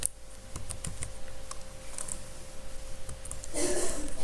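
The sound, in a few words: typing a keyword into Google on a computer keyboard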